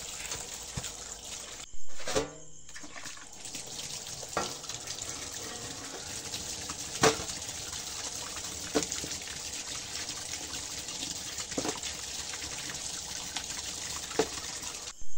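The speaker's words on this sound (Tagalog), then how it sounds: "yung meat natin ay kailangan hugasan ko para hindi mangangamoy isda" Fish meat from lumon fishing being washed with water, a steady splashing and running-water wash close by, broken by occasional handling knocks and louder sloshes.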